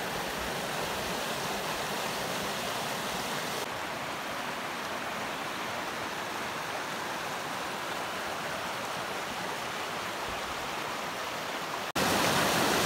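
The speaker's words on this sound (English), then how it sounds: "Oh, oh, a creek." Creek running full after rain in a redwood forest, an even continuous rushing and burbling of water, moderately loud and close, with no voices.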